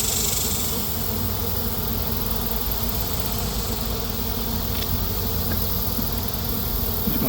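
Bees around neglected hives on a remote property make a dense, steady buzzing drone that fills the whole stretch at close range, with no speech.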